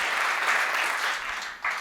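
An audience applauding at a Hindi comedy poetry gathering, a dense, sustained wash of clapping from a crowd, steady and loud throughout and tapering slightly at the end.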